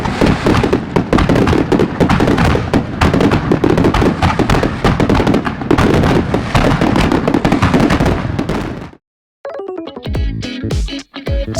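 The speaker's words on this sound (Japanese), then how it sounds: "海岸に上がる花火には趣があります" Fireworks over a beach crackle and burst continuously in a dense, loud barrage, then stop abruptly, leaving a brief quieter stretch of distant noise.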